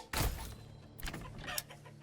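Chickens cluck in short bursts around chicken coops in the video game Manor Lords, a sharp squawk at the start followed by softer scattered clucks, moderately close.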